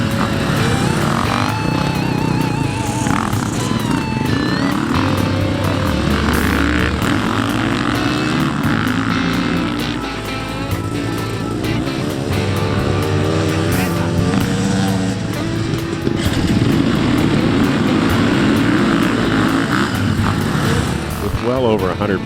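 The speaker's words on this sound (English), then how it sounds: "The big fear at the start is, will my bike start?" Dirt bike engines drone and rev together at the start of the 2018 Tecate Enduro race, a loud, continuous mass of motor noise with voices talking over it.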